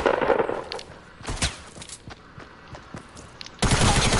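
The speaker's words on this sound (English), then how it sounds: "Who's shooting me?" Gunfire in a multiplayer shooter video game: sharp bursts and single shots of varying loudness crack out irregularly, some close and some more distant, ending in a denser noisy burst.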